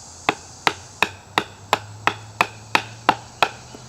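A Schrade SCHF38 knife chops into wood with about ten sharp, evenly spaced strikes, each a loud close crack ringing out alone.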